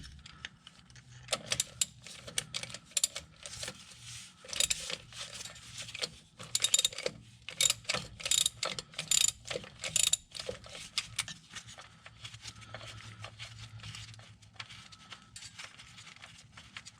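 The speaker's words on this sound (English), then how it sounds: "Put the big boy ratchet on." Ratchet wrench tightening a nut on a BDE transmission mount of a 1989-1996 Nissan 300ZX, giving bursts of rapid metallic clicking and clattering, close and moderately loud, with pauses between runs.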